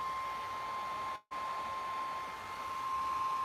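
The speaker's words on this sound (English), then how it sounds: "I'm going to have to hit this with a hairdryer, so I apologize for the noise." A hair dryer blows a constant whine while drying fresh wax on a flea-market furniture piece. It cuts out for a split second, then resumes steadily.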